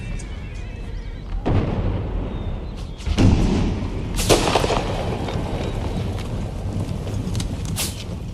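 Cavalry horses neighing in the video game Empire: Total War, with whinnies rising over a constant battle din of hooves and distant gunfire, sharp cracks and thuds landing around the three and four second marks.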